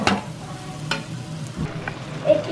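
Chicken fries with garam masala and coriander powder in a pan, giving a constant close sizzle. Occasional scrapes and knocks come from stirring, and no voices are heard.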